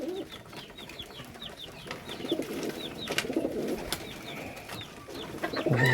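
Racing pigeons in a loft coo in soft repeated rolls, with scattered wing flutters and faint background chatter of birds, fairly close.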